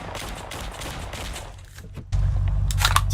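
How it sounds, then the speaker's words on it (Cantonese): Dense rapid gunfire rattling in bursts, followed by a sudden heavy low rumble with a few more sharp cracks on top. "我覺得要開槍射佢。"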